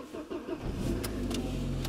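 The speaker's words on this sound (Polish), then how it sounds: "Dobra, sobie odpalę auto." A car engine turns over and catches, then settles into a steady low idle rumble, close and fairly loud, with no talking.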